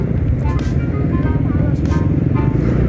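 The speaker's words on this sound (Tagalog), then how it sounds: "Super traffic." Heavy road traffic in the town of Iba, Zambales: a dense, steady rumble of car and motorcycle engines nearby, with occasional horn-like tones and a voice speaking over it.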